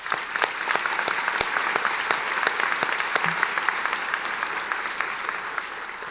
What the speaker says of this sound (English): you deserve your own round of applause